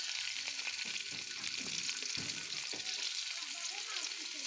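Chilies frying in hot oil in a pan while greens are being cooked, a close, continuous bright sizzle with crackling bursts and occasional stirring scrapes.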